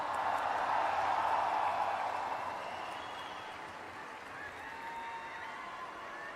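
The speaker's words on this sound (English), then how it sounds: "Big round of applause for Sadhguru once again." An indoor crowd in Delhi gives Sadhguru a big round of applause at a Save Soil event, a dense roar of clapping that gradually eases to a lighter, steady patter.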